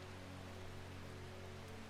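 Steady rain in the video game Strange Horticulture, an even hiss with faint low hum underneath, continuous and alone without any voices.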